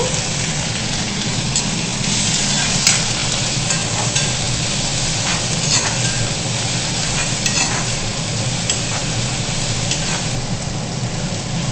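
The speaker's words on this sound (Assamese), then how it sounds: "প্ৰায় 5-10 মিনিট এনেকৈ ফ্ৰাই কৰিব ৰংচোৱা হোৱালৈ।" Onions and chillies frying in a pan over medium heat while being stirred, for a swamp eel fish curry; a steady, dense sizzle runs throughout with light scraping of the stirring, no voices.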